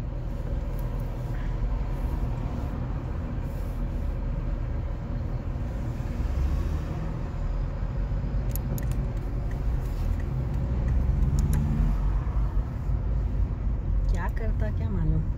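Morning highway traffic between Dubai and Sharjah heard from inside a vehicle, a steady loud road rumble and engine drone throughout while someone talks over it.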